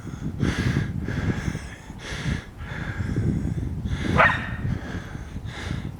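Several muffled dog barks come in bursts over rumbling low-frequency noise during a snow blizzard, with one sharper yelp near the end.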